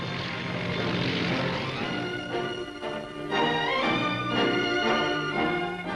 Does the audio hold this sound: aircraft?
yes